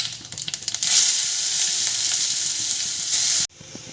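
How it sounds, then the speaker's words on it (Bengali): Chopped onion frying in hot oil in a pan with cumin, cardamom, cinnamon and cloves, a loud continuous sizzle after a few stirring clatters, cut off abruptly near the end. "পেঁয়াজটা ভাজা হয়ে গেছে"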